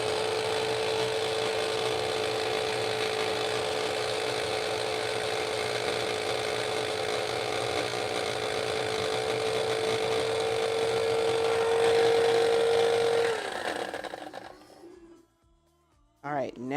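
An electric grinder whirs steadily as it grinds cooking ingredients into powder for a crispy pork dish, holding a loud, even drone for about thirteen seconds before spinning down to silence.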